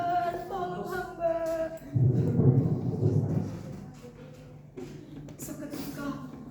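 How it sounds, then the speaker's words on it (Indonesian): Storytelling sound effect of a thunderstorm, with a heavy rumble of thunder in the middle over steady rain, and some background voices at the start and end. "Seketika langit berubah menjadi mendung dan juga hujan. Petir berhamburan di seluruh penjuru langit."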